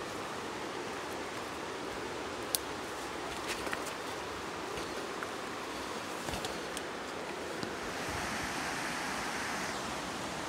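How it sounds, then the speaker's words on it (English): A small creek flows into a river along a lush trail, giving a steady, broad rush of moving water. It is close and constant, with faint clicks and brief rustles and no talking. "Little creek, it's coming in and meeting with the rest of the river."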